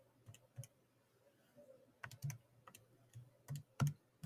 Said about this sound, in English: So I'm going to go ahead and into my y equals, I'm going to type this function.